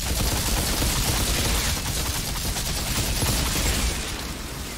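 Magma bullets fire in the video game Outriders as a dense, rapid burst of loud gunfire that runs continuously and tapers slightly at the end.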